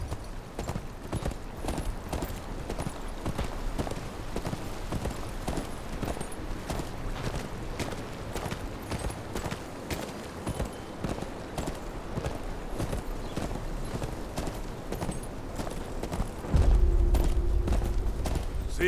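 Horse hooves clip-clop in a steady walking rhythm during riding in the game Game of Thrones: Kingsroad, continuous and fairly close, with a heavier low rumble joining near the end.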